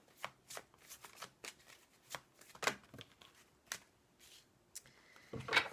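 A deck of cards being shuffled in short, crisp riffling bursts, repeated about a dozen times at a close, quiet level with no voices.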